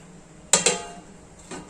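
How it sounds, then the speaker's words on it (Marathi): A large metal vessel is set down as a lid over an oiled kadhai for steaming momos, giving two close metallic clanks in quick succession and a softer knock a moment later, with no talk. "कढईला तेल लावायचं आणि छान असं आता मोठं भांड आपण झाकून देऊया."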